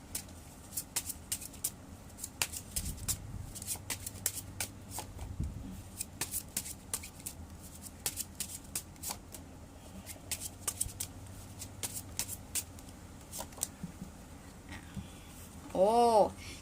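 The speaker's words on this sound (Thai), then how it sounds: "เดี๋ยวเรามาเปิดไพ่คำแนะนำเนาะ" Advice cards for a fortune reading are shuffled by hand in a series of soft, quick riffling patters spread across the clip, close by, while someone speaks quietly in between.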